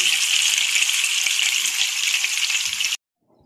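Chicken kofta sizzle steadily in hot oil, a close, even hiss with no talk, and it cuts off abruptly after about three seconds.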